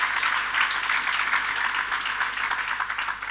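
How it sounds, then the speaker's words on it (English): An audience at an energy conference plenary session applauds its panelists with steady, dense clapping that keeps going evenly throughout. "please, another round of applause for our panelists"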